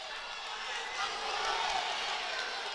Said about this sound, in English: The crowd erupting here in Maples.